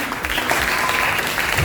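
A school audience applauds in a steady, dense burst of clapping, fairly loud and sustained across the whole short stretch.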